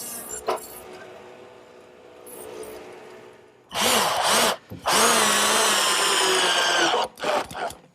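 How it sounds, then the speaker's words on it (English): Radial arm saw fitted with a stacked dado head cutter plowing out tenon sides, loud whining bursts of cutting through wood with brief gaps, preceded by quieter motor hum and clinks. "since I still have the radial arm set up with the stacked dado head cutter, I'll just plow out all 4 sides"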